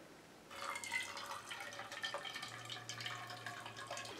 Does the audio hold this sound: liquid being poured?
yes